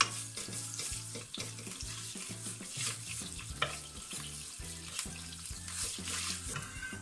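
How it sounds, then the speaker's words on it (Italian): Anchovies and a garlic clove fry in olive oil in a pan, a soft continuous sizzle with faint stirring under quiet background music. "mettiamo le nostre acciughe. E le facciamo sciogliere."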